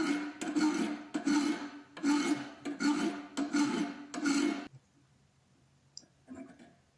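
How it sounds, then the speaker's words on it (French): Steel bread knife shoulders shaped with a hand file against a file guide: about seven steady rasping strokes in quick rhythm, close and fairly loud, then a quiet pause with a faint scrape near the end. "J'utilise ensuite mon guide lime pour pouvoir limer les épaules de mon couteau"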